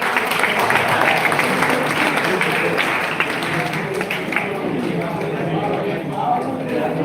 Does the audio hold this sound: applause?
yes